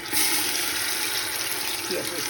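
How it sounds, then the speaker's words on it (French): Water is poured into a tagine over onion while cooking fennel and peas, a continuous splashing gush that starts abruptly and keeps flowing steadily. "je vais rajouter l'oignon et je vais mettre de l'eau"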